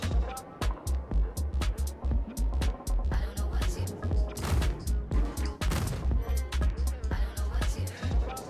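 Repeated gunfire in a Pyro-region multiplayer game, sharp bursts and single shots going off steadily throughout, loud and close, mixed with game effects and occasional talk over the top.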